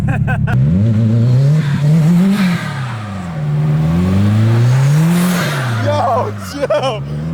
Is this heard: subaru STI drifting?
yes